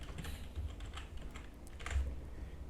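Fingers type on a computer keyboard in a quick, uneven run of close, light key clicks over a soft background hum.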